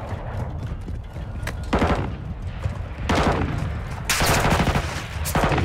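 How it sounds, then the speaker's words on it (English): Gunfire in Call of Duty Modern Warfare 2 (2022): loud bursts of automatic fire in several separate volleys, with brief pauses between and a constant rumble of battle underneath. "Who are you shooting at?"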